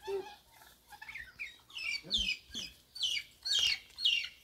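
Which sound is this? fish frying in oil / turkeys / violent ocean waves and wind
turkeys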